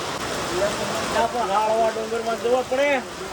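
Steady rain pouring on a road during a trip through hills, a dense broadband wash heard up close, with people talking over it throughout.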